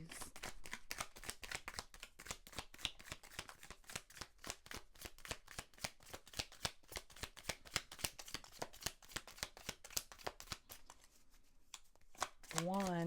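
Tarot cards are shuffled and drawn in quick, close, continuous riffling clicks that run almost nonstop, ending in a brief pause before a final card handling sound; no one speaks.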